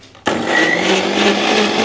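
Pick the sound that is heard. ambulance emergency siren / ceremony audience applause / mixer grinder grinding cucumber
mixer grinder grinding cucumber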